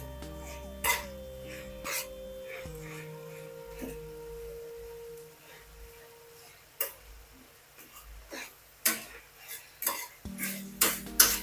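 Rice being stirred in a covered cooking pot: a spoon knocks and scrapes against the metal in uneven bursts, the knocks growing louder and quicker toward the end, with a low hum underneath.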